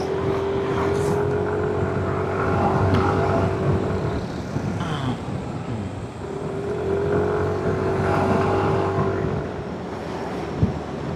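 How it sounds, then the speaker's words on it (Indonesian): Busy traffic on a regional highway through forest, heard from inside a moving vehicle: a constant engine and road drone with oncoming vehicles swelling past twice, plus a faint tonal hum and occasional wind buffeting. "Kendaraan dari arah berlawanan juga padat nih."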